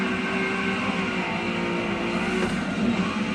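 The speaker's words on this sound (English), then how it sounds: "Not enough power to drift the whole thing." Car drifting in a racing sim video game, a continuous engine drone with steady tyre and motor noise at even loudness.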